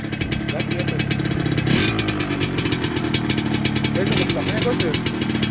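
A Yamaha RXZ motorcycle engine with a catalyzer exhaust idles with a steady, throbbing rumble close by, holding a constant pitch throughout with a slight rev near the middle.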